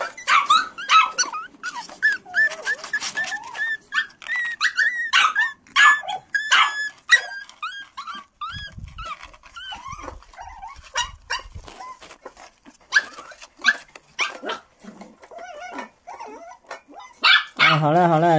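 A litter of hungry black puppies yelps, whines and whimpers in rapid, overlapping high-pitched bursts, close by and continuous over many seconds, with a brief low rumble partway through.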